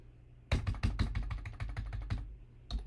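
Someone types a file name on a computer keyboard: a quick run of about a dozen crisp, close key clicks, a short pause, then one more keystroke.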